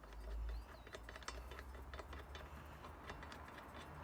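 A screw being driven back into a lawn mower blade as it is refitted after sharpening, heard as a run of close, quiet ratcheting clicks at a steady rhythm, with no talking.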